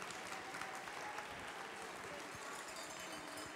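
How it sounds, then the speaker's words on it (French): Audience applause for backstage crew at a live cooking show event, steady dense clapping throughout at moderate, somewhat distant level. "Est-ce qu'on peut les applaudir pour les encourager"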